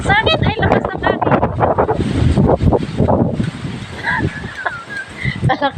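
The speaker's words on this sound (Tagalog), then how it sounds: "Ay, lakas ng hangin!" Strong, gusting wind buffets the microphone with heavy, uneven rumbling blasts that surge and ease, while voices talk excitedly over and between the gusts.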